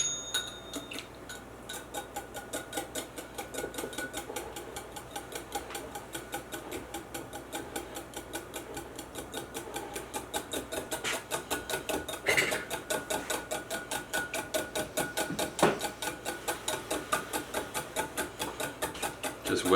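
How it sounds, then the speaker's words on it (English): A whisk beats a gluten-free chess pie mixture in a bowl with a steady, rapid ticking rhythm that goes on for about twenty seconds. It is close and fairly loud, with a few sharper clinks and no speech. "And we're going to whisk this up together."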